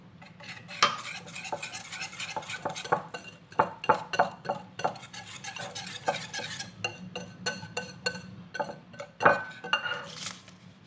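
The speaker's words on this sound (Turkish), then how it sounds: "Bunu çırparken içine nişastamı ekliyorum." Cookie dough for apple cookies is whisked in a bowl while starch goes in. Quick, rhythmic metallic clinks and scrapes ring out close and continuous with no speech.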